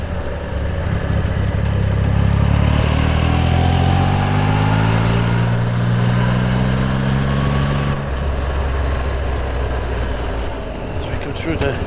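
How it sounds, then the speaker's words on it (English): Motorcycles on the road at Burnham Bends give engine notes that climb in pitch, loud and near, over constant traffic and road noise. "A few bikes out and about today."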